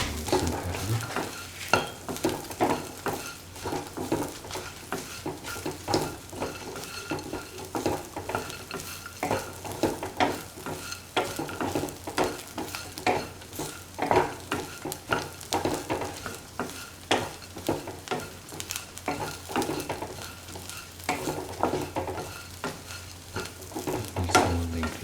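A spoon stirs an okra and ground cashew nut stew in a pot, with repeated scraping strokes and a soft bubbling sizzle underneath, steady and close for a long stretch without voices.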